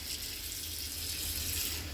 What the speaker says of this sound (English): you're going to set it down underneath the sink water and you're going to turn this on. Now you're going to run water into this pot